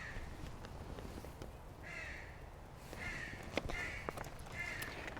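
A crow or raven gives a series of harsh caws, about five calls spaced roughly a second apart, heard at moderate distance over a steady outdoor background.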